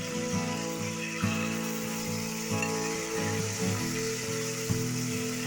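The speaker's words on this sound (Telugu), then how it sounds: "ఆయిల్లో చికెన్ని వేసుకొని ఇలా బాగా కలుపుకోండి" Half a kilo of chicken fries in hot oil for a curry, a steady loud sizzle filling the clip with scraping stirs and occasional clatters on top, no one talking.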